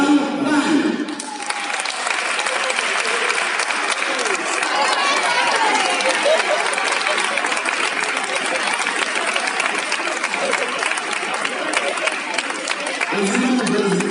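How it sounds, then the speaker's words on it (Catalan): A crowd at a cycling school presentation applauds a young rider with sustained, dense clapping that starts abruptly, holds steady for several seconds and then fades as an announcer's voice returns. "Un aplaudiment per a Vicent Grau Juan."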